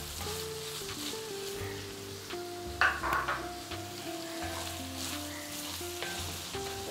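Capsicum tossed and stir-fried in a hot pan for a Thai green curry with chicken and mixed vegetables, giving a steady close sizzle with a brief louder burst of frying and scraping midway. Nobody speaks.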